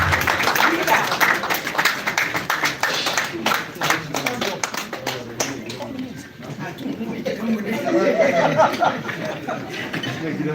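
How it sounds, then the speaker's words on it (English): A crowd at a political party's world conference applauds Aminu Bello Masari, with dense clapping early on that thins out under loud crowd chatter and scattered voices. "Please, a round of applause for him."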